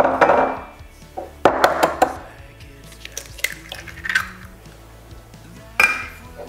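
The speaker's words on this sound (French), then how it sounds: "on va mettre les œufs. Ok, on les casse. On les casse. Hop, un œuf." Eggs are cracked into a bowl while making a sugar pie: a few sharp taps and clinks against the dish, spaced out, among quiet kitchen sounds.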